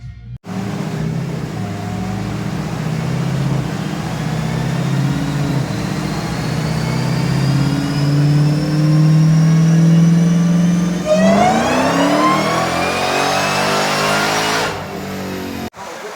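A stock 2018 Dodge Demon on a dynamometer roars through a sustained full-throttle pull, its loud engine note climbing steadily in pitch, then it shifts and revs higher again before abruptly cutting off.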